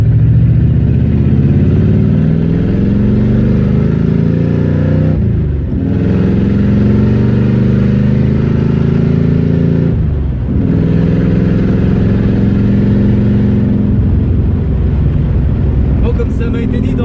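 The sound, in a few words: Pontiac Firebird with 400 engine accelerating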